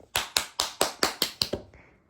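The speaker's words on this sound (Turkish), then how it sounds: "Tebrik edelim arkadaşımız. Alkışlayalım." Seven steady, evenly spaced hand claps ring out close and clear, applauding the winner of a game round at a school picnic, then fade into quiet.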